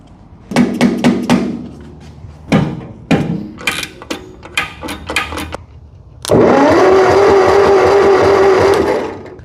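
The starter of an abandoned Massey Ferguson tractor, fighting a faulty starting solenoid, gives several short loud clunking cranking bursts, then a sustained close mechanical whirr of the starter turning the engine.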